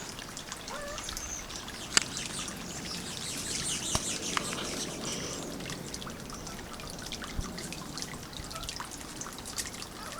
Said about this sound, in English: I've got a very cranky mockingbird whenever I go on that side.